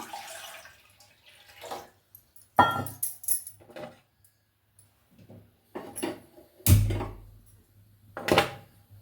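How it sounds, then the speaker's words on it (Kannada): Water from two glasses poured into a cooking pot for barley porridge, heard as a few separate splashing pours with clinks of vessels between them, close and fairly loud against a quiet kitchen. "ಒಂದು ಪಾತ್ರೆಯನ್ನು ಇಟ್ಟಿದ್ದೀನಿ ಇವಾಗ ಇದಕ್ಕೆ ನಾನು ಎರಡು ಗ್ಲಾಸಷ್ಟು ನೀರನ್ನು ಹಾಕ್ಕೊಳ್ತೀನಿ"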